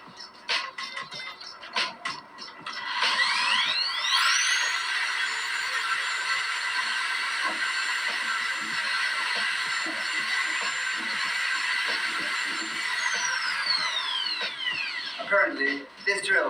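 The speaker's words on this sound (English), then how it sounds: "Let's see what damage this drill can do to it." A power drill is pressed against a rugged Oukitel WP6 smartphone, giving a steady, loud whirring grind that holds for about twelve seconds, then winds down among faint handling noises.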